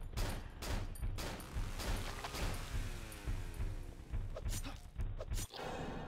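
Repeated gunshot bursts from a weapon in the horror game Cry of Fear, sharp cracks coming in irregular clusters, fairly near and distinct, with quieter gaps between volleys.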